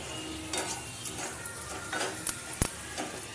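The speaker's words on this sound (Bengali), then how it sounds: "দিয়ে ভালো করে নেড়ে চেড়ে কষিয়ে নেবো" Fried fuluri fritters stirred into spice masala in a pan, a soft sizzle beneath scraping strokes and a couple of sharp clinks of a utensil against the metal, close and moderately quiet.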